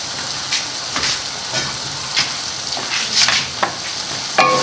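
Chicken liver tipped into a pan of sizzling tomato masala for spicy smoky kaleji, a steady close frying hiss with scattered sharper spits and stirring scrapes throughout.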